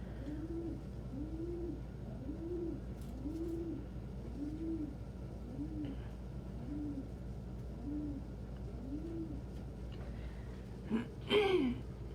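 Pigeons at a rescue coo softly in a repeated series of about ten rolling calls, faint and steady, with a brief clatter near the end.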